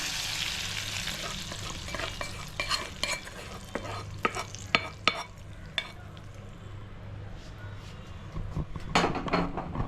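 Mustard seeds and curry leaves spluttering in hot oil while tempering a Kerala sadya-style sambar; a close, continuous sizzle carries sharp scattered pops and crackles, busier near the end, with no talking.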